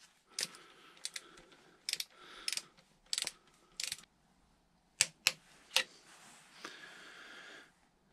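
A torque wrench tightening an ABS sensor on a Triumph Speed Triple motorcycle gives quiet, close, sharp ratcheting clicks in short bursts with pauses between them, ending in a longer rasping stretch, with no talking.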